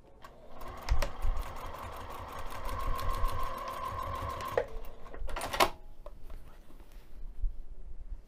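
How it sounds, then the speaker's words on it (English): A sewing machine whirs through a steady run of rapid stitching, pauses briefly, then starts again in short bursts, close and fairly loud. "take this over to the sewing machine and stitch that down using an 1/8 inch seam allowance"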